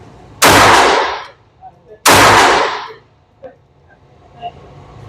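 Two loud, close gunshots from a .22 pistol, each a sharp crack with a long ringing decay, about one and a half seconds apart, followed by faint handling noises.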